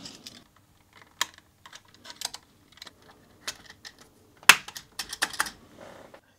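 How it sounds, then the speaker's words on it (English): Keys and a spacebar are pressed onto a Sharp MZ-700 computer keyboard from 1982 during restoration, giving scattered sharp plastic clicks and snaps at irregular intervals, one louder clack standing out, close and without talk. "It's always satisfying to assemble a keyboard like this."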